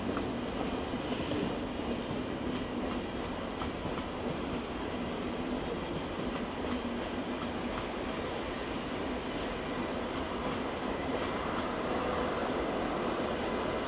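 An ICE high-speed train rumbles steadily at close range approaching München Hauptbahnhof, wheels grinding on the rails, with a thin high squeal rising partway through.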